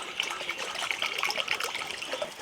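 Water poured into a cooking pan on a village clay stove, a short continuous splashing trickle, close and fairly loud, with no voices.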